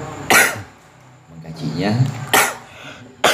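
A man gives several sharp coughs, one early and two late, close to the mic. Between them he mutters a few words in a quiet indoor setting.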